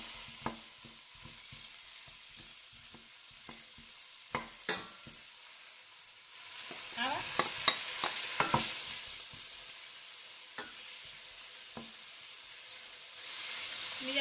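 Artichokes and garlic frying with clams in a pan, a soft steady sizzle with scattered clicks and scrapes of stirring, swelling louder midway as the artichokes go in, then settling back to a gentle fry.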